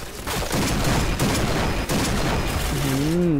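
Rapid gunfire rattles through a round of the online shooter Point Blank: bursts of close shots crack in quick volleys, with someone talking excitedly over them.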